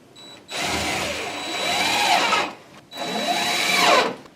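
A power drill drives screws into wooden staircase stringers in two sustained bursts, the motor whining and then bogging down as each screw seats. The bursts are loud and close, with a short pause between them.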